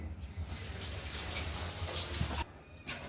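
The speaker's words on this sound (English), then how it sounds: "we'll rinse them off real quick." Raw potatoes are rinsed under a running kitchen tap, a continuous broadband splash of water that stops briefly near the end, then resumes.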